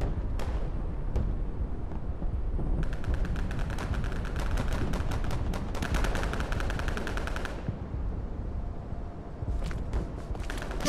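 Rapid bursts of rifle and machine-gun fire in the Day of Infamy shooter, set in France in 1944, crackle near and far for most of the stretch, with scattered single shots before and after the heavy volley.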